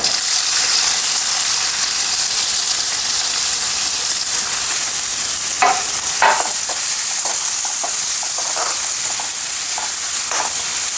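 Steady, hissy sizzle of onion frying in hot oil, with a few light stirring clicks scattered through the second half.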